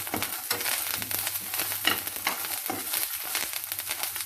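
Peanuts and curry leaves fry in hot oil, a loud steady sizzle with crackling bursts and the scrape of stirring running throughout.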